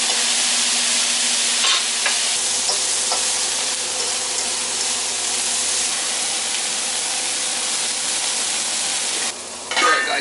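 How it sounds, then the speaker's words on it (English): Butter sizzles steadily in a hot pan with green peppers, a dense continuous frying hiss that holds close and loud throughout, with occasional stirring clatter and a brief break near the end. "We'll throw some butter right in the middle there"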